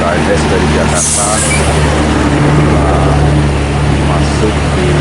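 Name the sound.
ANS bus from Jakarta arriving at bus terminal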